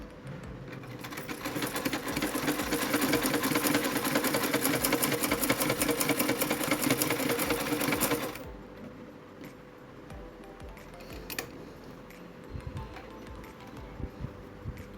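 A sewing machine stitches fabric in a fast, steady mechanical whir for about eight seconds, then stops, leaving quiet room noise broken by a few small clicks and taps.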